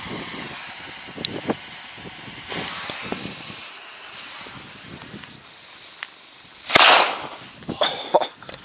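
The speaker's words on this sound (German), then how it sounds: "richtig heller Knall irgendwie heute" A sharp, bright firecracker bang cracks out after a stretch of quieter background, followed by a few smaller pops and crackles.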